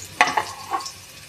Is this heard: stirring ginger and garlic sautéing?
yes